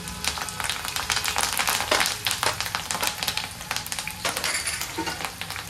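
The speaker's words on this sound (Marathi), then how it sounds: "त्याच्यामध्ये हिरवी मिरची टाकते आता मी. कढीपत्ता टाकते." Green chilies and curry leaves crackle and sizzle in hot oil in a pan for poha chivda, with rapid popping spatters and stirring clinks, loud and close with no voices.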